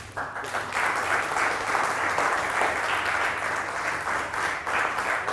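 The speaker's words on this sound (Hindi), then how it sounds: "एक दफा फिर तालियां हामिद शमशाद साहब के लिए।" Audience at a silver jubilee award show in Chitral breaks into sustained applause, a full, steady roar of clapping from a large crowd.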